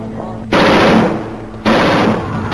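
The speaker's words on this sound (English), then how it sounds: "Oh my god, guys, I'm being shot at!" Two bursts of rapid automatic gunfire in the video game Dark Years, loud and close, each lasting about a second, with no talking.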